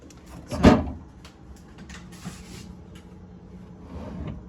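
Drawers in a new GE refrigerator slide open and shut, with one sharp thump followed by softer rolling and rattling, close by with no one talking.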